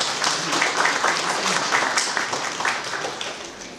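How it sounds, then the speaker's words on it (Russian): An awards ceremony audience honoring Saint Petersburg printing workers claps in a sustained, loud, dense wash that holds steady throughout, with faint voices mixed into the crowd. "Аплодисменты!"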